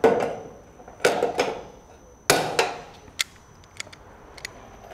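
Pop rivets snapping as a riveter fastens a downpipe on a Colorbond gutter against timber fascia, sharp metallic pops and clicks at irregular intervals, a few loud ones then fainter taps, close by with no talk.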